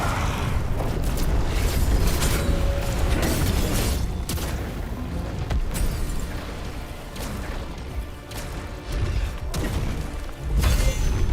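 Explosion in the action game The First Berserker: Khazan, a loud sustained blast and rumble that fills the clip, with several crashing impacts and battle noise layered throughout.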